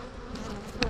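Agitated honey bees in an open colony during a C.C. Miller split, a steady close buzz swelling into a brief louder burst near the end.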